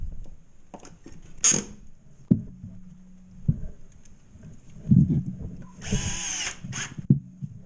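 A power drill drives screws to fasten bullnose corner bead around an attic access drywall opening, with short whirring bursts separated by pauses, knocks and handling clatter, heard up close with no voices.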